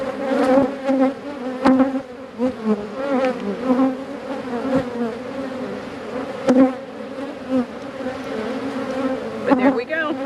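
Honeybees buzz steadily around an open hive, a dense, close droning hum that swells and dips, with occasional knocks and handling noises over it.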